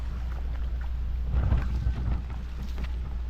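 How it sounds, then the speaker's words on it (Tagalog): Typhoon wind roars in a steady broadband rush with heavy rain noise, swelling louder in a gust around the middle before easing back to a constant stormy roar. "Ito na yata yung pinakagrabe na bagyo ngayong 2025 ah."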